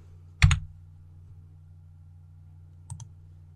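Computer keyboard key press and mouse click in a quiet room while working in Blender: one sharp click, then a lighter one a couple of seconds later.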